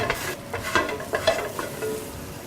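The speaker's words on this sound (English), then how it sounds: "There's a thing called fond, or all this stuff that's stuck to the bottom of the pan. And then we can use a wooden spoon." A wooden spoon scrapes browned fond off the bottom of a hot pan while cooking sesame orange peel chicken, giving a few close scraping strokes over a low, soft sizzle.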